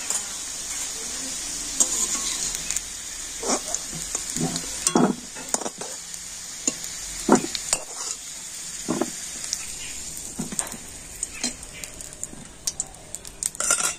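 Potatoes fry in a pan with turmeric and salt, a steady hiss of hot oil broken by repeated scraping stirs and light clinks of a utensil, close up and free of speech.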